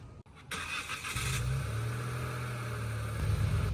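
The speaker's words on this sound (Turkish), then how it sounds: "5 saniye bastıktan sonra araç kendi kendine çalışıyor arkadaşlar" A Nissan Rogue starts by remote start: a brief crank catches and the engine settles into a steady, fairly close idle with a low hum.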